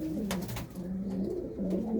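Pigeons cooing close by, soft low throaty coos repeating in short rolling phrases, with a few brief rustles among them.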